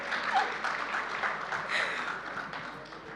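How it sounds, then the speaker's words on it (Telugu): An audience at a movie pre-release event breaks into scattered applause, heard as a faint, continuous patter of clapping from a crowd at a distance. "చప్పట్లు."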